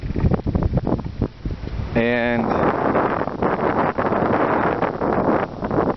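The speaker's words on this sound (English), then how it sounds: "The wind is horrible right now." Loud wind buffeting the microphone in rough gusts, with a voice speaking briefly over the roar and a short tonal sound partway through.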